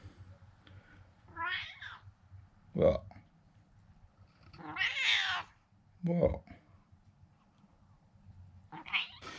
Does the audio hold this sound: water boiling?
no